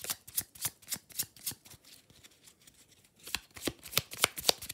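A deck of angel oracle cards is shuffled in quick, crisp riffling bursts, then goes quiet before another run of shuffling and card draws, close and clear.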